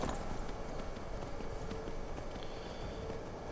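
Horse hooves clip-clop at a run in the video game Skyrim, a steady rapid patter that runs the whole stretch under dense game ambience.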